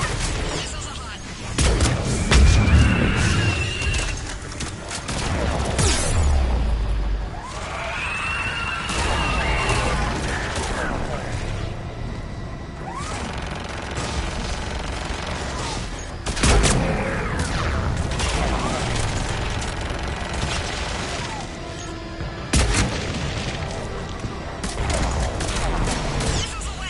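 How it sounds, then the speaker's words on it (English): Mass Effect 3 combat with missiles launching and rapid gunfire, dense bursts of blasts and impacts running throughout, loud and layered, with voices talking over the action. "Missiles away."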